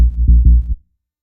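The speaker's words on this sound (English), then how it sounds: "To sub bass, just a sine wave with a triangle wave" A synthesized sub bass layered from a sine wave and a triangle wave for a drum and bass track plays loud and deep in a few short pulsing notes, then cuts to silence.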